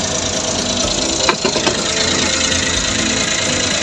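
The engine of a 4x4 sporty wagon with double sliding doors runs steadily at idle, a loud, even mechanical hum with a brief clattering knock partway through and no talking.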